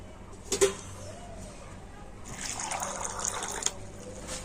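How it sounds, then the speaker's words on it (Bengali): Water pours onto about 300 grams of shelled peas, with a couple of brief knocks first, then a steady splashing stream for the second half, faint and close. "আর এখন আমি মটরশুঁটিতে জল দিয়ে দেব"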